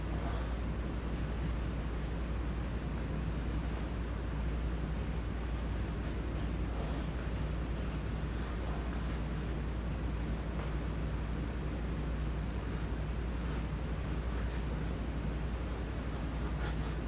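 A pencil scratches and rubs across paper in a steady, soft drawing stroke pattern, faint and continuous under a hiss of background noise, with no talking.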